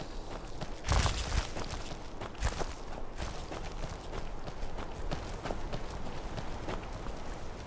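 A horse's hooves clip-clop in a steady rhythm on a road in a video game. The sound is fairly faint, with a few louder thuds near the start and no voices over it.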